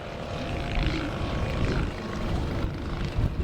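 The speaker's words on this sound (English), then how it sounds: "Airborne now is the beautiful Comp ARF model and the Stinson." A Composite ARF Flybaby model airplane, with what may be a Valach engine, drones steadily overhead at a model air show, a continuous buzzing engine note with distant crowd murmur underneath.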